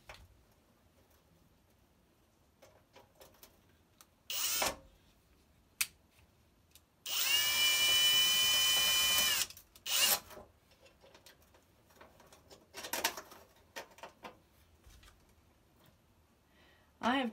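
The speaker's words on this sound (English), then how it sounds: "And then put these screws back on." A power drill drives screws back into a kiln under repair, heard as one loud, steady whine lasting about two seconds amid scattered clunks and handling knocks, with brief quiet speech around it.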